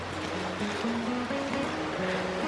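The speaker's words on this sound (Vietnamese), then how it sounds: "Mọi người xem con suối này." A forest stream flows with a steady broadband rush of water, continuous and fairly close, with no voices.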